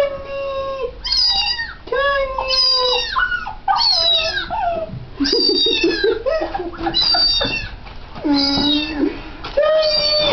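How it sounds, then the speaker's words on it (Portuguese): A cat meows and caterwauls loudly and repeatedly in rising, wavering cries while a dog chases it, with a voice urging the dog on close by. "Pega o gatinho, Melzinha, pega"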